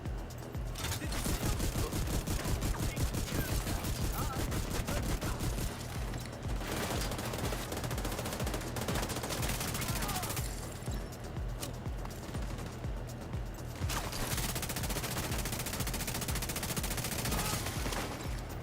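Rapid bursts of shotgun and other gunfire from The Division 2 crackle almost without pause through a firefight, loud and dense, with a brief lull midway before the shooting resumes.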